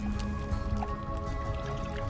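Ground malted rye is stirred into boiling water for kvass, making close, wet, bubbling squishes and drips over a steady liquid rumble.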